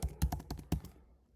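Quick keystrokes on a computer keyboard while an SQL insert statement is typed, about six close, crisp clacks in an uneven burst before the keys go quiet.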